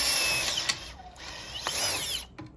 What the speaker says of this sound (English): So we're going to drill straight through those.